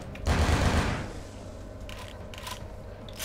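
Gunfire rattles in a loud close burst during a firefight in Vampire the Masquerade: Bloodlines, then thins to a few scattered distant shots over a low background hum.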